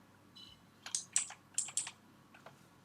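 Keys on a computer keyboard are pressed in a short quiet burst, about five or six crisp clicks in two close pairs and a trailing tap, against a near-silent room.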